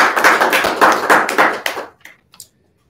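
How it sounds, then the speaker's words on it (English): Brief applause from a small group, a handful of close, sharp claps that thin out and stop within about two seconds, leaving near silence with a couple of stray claps. "Big round of applause, everybody."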